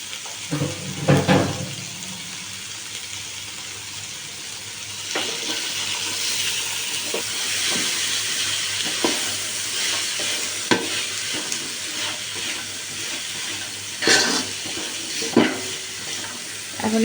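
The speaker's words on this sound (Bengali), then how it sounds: "এবার দিয়ে দিচ্ছি সবজিগুলো একটু ভেজে নিতে হবে" Vegetables fry in a pan for vegetable khichuri, a steady sizzle under intermittent stirring scrapes and a few sharper clatters, close and continuous with no speech.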